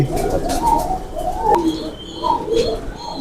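Pigeons of a fancy breed coo in soft, repeated low calls close by, with faint chirps and background rustle between the coos.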